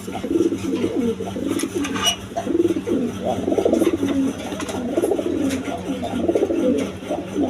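Racing pigeons with their chicks coo in a loft, repeated soft rolling coos overlapping nearby over a low background hum.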